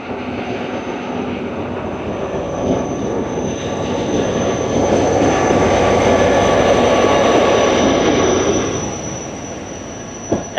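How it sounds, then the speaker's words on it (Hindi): The 13 Up Awam Express draws into Jhimpir station as a broad rumbling roar that swells over several seconds and then fades, with a faint steady tone above it and no voices. "जमपीर पे अप साइड पर अप्रोच बना के पहुंच रही है 13 अप अवाम एक्सप्रेस।"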